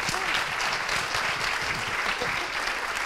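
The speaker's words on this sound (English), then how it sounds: "A lot of applause." Conference audience at GUADEC breaks into sustained, dense applause that fills the whole stretch at an even level, with no speech over it.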